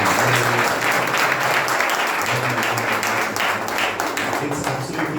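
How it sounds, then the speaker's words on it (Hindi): Sustained crowd applause, loud and dense, continues throughout with no break, with faint voices mixed in beneath the clapping. "मेरे बीवी के लिए थोड़ा ताली बजा सकते हैं."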